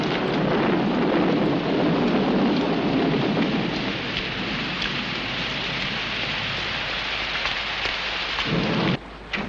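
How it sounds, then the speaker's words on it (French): Heavy rain pours steadily with rolling thunder in an outdoor storm scene, a loud, continuous wash of drops and low rumbles that holds throughout before a brief dip near the end. "il commence à pleuvoir"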